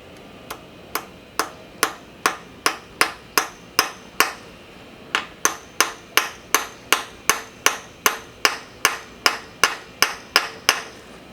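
A hammer taps an engine part in a brisk, even rhythm of sharp ringing strikes, about twenty-five in all, with one short pause midway; close and clear.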